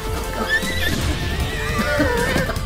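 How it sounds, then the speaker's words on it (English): In a video game, a horse gives a loud, close neigh with a trembling whinny lasting a couple of seconds, heard alongside faint hoof clip-clops and game noise. "Oh, the horse died!"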